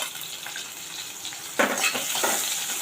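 Chopped green chillies and curry leaves fry in hot oil, with a steady crackling sizzle that flares up sharply partway through, along with a few scrapes of stirring, close and alone.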